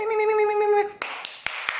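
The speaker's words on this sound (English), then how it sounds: "tiny clap." A brief high tonal sound, then a few small, light hand claps, quick and close.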